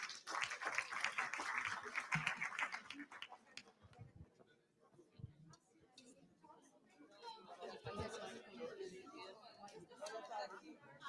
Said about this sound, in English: Big applause to our student council.